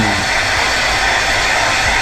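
A handheld hair blower runs steadily indoors while someone does their own hair at home, giving a constant loud whooshing roar with no breaks or voices over it.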